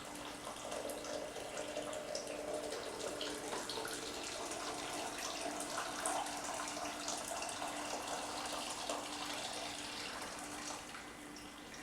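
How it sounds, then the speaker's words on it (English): Hot water running and splashing steadily into a container while brewing tea for homemade kombucha, a continuous soft, fairly quiet pour with a faint tonal hum underneath. "And here we have hot water."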